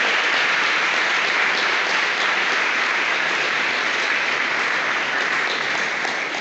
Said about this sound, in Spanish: Ese aplauso al Señor.